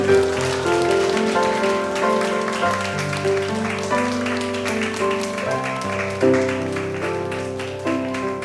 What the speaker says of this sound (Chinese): 把一切掌声归给我们的神